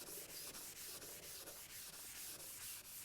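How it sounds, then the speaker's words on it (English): Green non-woven scuff pad rubbed briskly over metal in one direction to raise a brushed finish, giving a steady, close, hissing scrape in quick repeated strokes with no talk. "take like a green scuff pad and just real quick, not too much work, you just work in the same direction"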